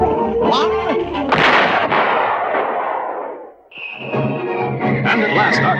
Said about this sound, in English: We need just a few more firecrackers.